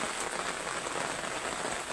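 Steady rain hissing across a surface, a dense continuous patter with no voices, close and even throughout.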